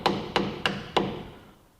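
A screwdriver used as a wedge on the front brake of a 1996 Chevrolet S10 pickup is struck with four sharp metallic taps at an even pace, close up, the last ringing off into quiet.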